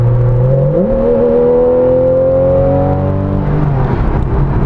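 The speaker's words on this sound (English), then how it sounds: "now see, that's the PDK. That downshift is incredibly quick." A 2015 Porsche 911 Carrera GTS with PDK transmission blips its engine on a quick downshift, the loud close engine note jumping sharply in pitch and then holding a steady drone.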